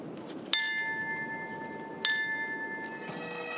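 Memorial bell on the deck of the USS Midway during a September 11 remembrance ceremony in San Diego, struck twice with clear ringing tones that hang and decay, a third fainter strike near the end, over low outdoor background.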